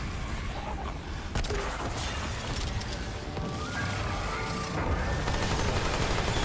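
Sustained gunfire from a shooter game set in Yaesha, Remnant 2, with dense overlapping shots and bursts over an ongoing battle din, staying loud and steady throughout with a sharp crack near the start.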